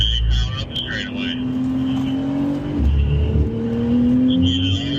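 A Porsche sports car accelerates hard up the straight at the Porsche Experience Center Los Angeles, its engine note climbing steadily under a voice talking over it.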